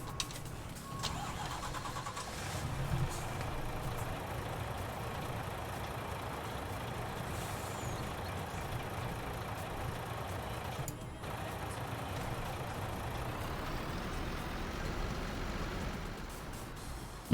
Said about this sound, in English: Alright, let's get the truck down here.